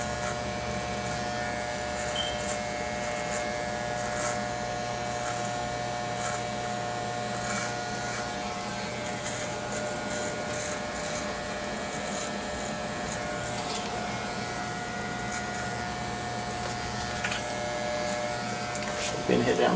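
Electric hair clippers hum steadily at close range while cutting a man's hair in a close-cut style, a constant buzzing drone that continues throughout with slight shifts in tone as the blade moves.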